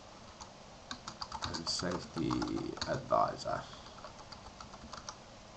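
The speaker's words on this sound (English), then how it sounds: "I'm going to start typing in some information" Rapid clicking keystrokes on a computer keyboard, in uneven bursts of typing up close, with someone talking briefly over the clatter.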